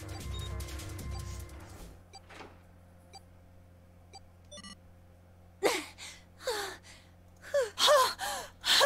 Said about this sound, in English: Round of panting, everyone.